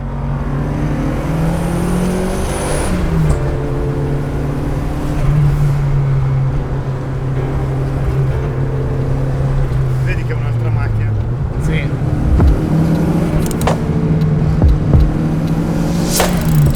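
A Lancia Delta Futurista being driven, its engine droning steadily with shifting pitch as it revs and changes gear, loud and continuous while someone talks over it.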